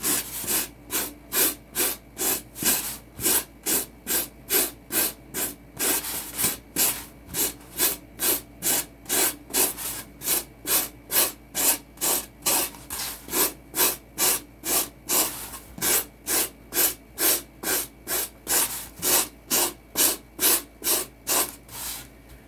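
Steady rhythmic rasping of sandpaper rubbing back and forth across a surface, close and continuous, with no voices.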